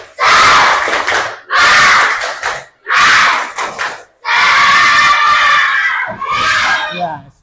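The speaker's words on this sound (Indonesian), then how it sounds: "Tepuk semangat." A class of students in an Islamic religious education lesson performs a loud spirit clap chant, shouting and clapping together in five distinct bursts separated by short pauses, close and energetic.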